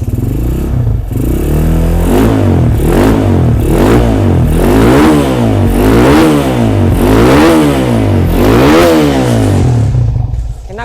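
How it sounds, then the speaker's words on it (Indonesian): Honda GL100 motorcycle with a PWK carburetor and original KTM exhaust with stainless header, revved repeatedly in loud rhythmic surges about once a second, close and raw, easing off at the end. "Suara mesinnya, karburator menggunakan PWK."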